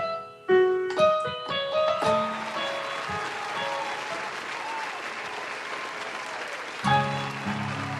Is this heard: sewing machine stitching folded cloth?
no